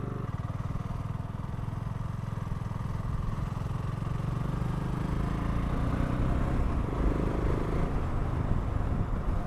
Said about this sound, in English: see what this bike sounds like down there